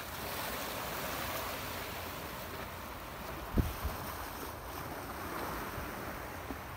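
Ocean waves wash onto the beach at Tân Thành, Gò Công Đông, Vietnam, a steady broad surf hiss with wind noise on the microphone and one brief louder splash partway through; no voices.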